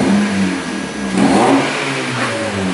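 A Honda Civic FN1 with a loud aftermarket setup revs hard, its engine note climbing through a strong, steady mid-range roar over nearly three seconds, close and loud.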